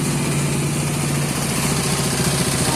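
A stock, unrestored Honda C70 four-speed motorcycle engine idling close by, a steady low chugging putter with an even, unbroken rhythm and no voices.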